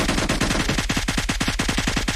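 Rapid automatic gunfire in a battle royale video game, a dense, loud stream of evenly spaced shots at about eight per second that runs continuously without pause.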